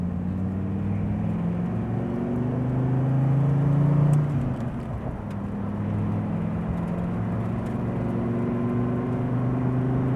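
A 2014 red Dodge Viper's engine drones steadily under hard first-gear acceleration, its low tone climbing and briefly swelling louder before settling into a sustained roar.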